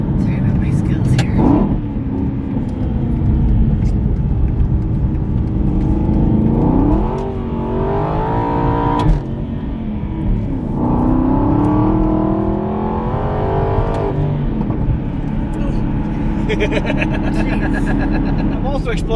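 An Aston Martin Vantage engine revving and pulling through gears on a winding road, a loud close drone rising and falling in pitch, with someone talking over it throughout.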